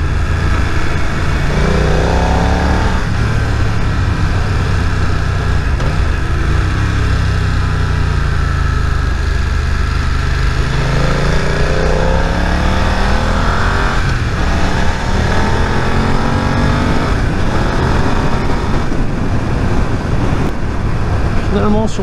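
A motorcycle engine pulls at low revs on the torque while being ridden, loud and close throughout, its pitch sweeping up and down with gear changes over a steady rumble of wind and road noise.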